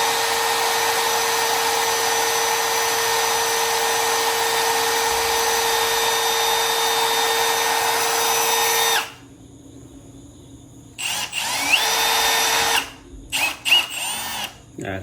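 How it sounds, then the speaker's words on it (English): Power drill boring a small pilot hole into an e-bike frame, a steady high whine running for about nine seconds before stopping, followed by short bursts of handling noise. "here goes the first hole, the little pilot hole."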